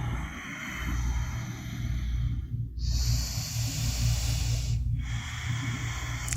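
A slow exhale during a hatha yoga standing forward fold, heard as long, close, airy breaths over a steady low background hum.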